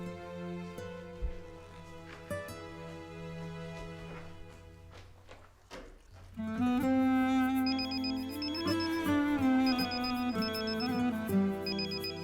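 A telephone rings in a dubbed drama scene, its repeating electronic ring tone sounding clearly over background music that swells midway through.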